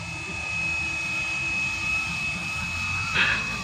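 An EC 145 scale RC helicopter flies at UP Field, giving a steady, fairly loud turbine-like whine with rotor noise that holds evenly throughout and swells briefly near the end.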